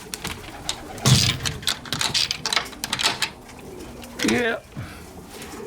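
Pigeons coo softly inside a new loft at a pigeon show, a few low throaty calls rising amid light rustling and handling noises, with a voice briefly heard.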